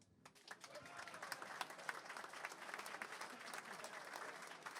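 An outdoor protest rally crowd in Slovenia over wild animal attacks on livestock applauds in sustained, dense clapping that rises quickly and holds steady, heard at a distance.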